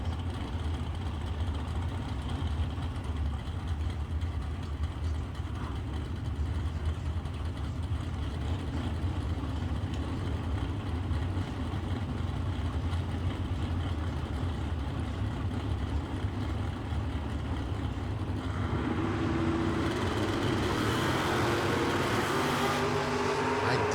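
Vega and Monza drag race cars at a drag strip, a steady loud engine drone with idling rumble, then a surge of louder racing engines near the end.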